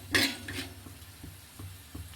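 Coriander seeds and whole spices dry-roasting in a pan over a low gas flame, heard as a few scattered scrapes and clinks of a spoon on metal with faint crackle, quiet and close, no talking.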